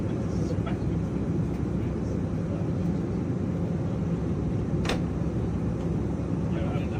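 Airplane cabin during flight, a steady low engine and air rumble throughout, fairly quiet and unbroken, with a few faint distant clicks and no clear talk.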